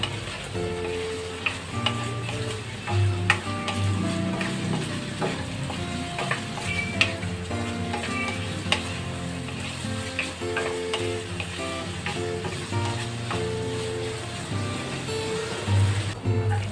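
Bihon noodles frying in oil in a pan while being stirred, a steady close sizzle running throughout with light scraping and clicking over it, loud and continuous, with no voices.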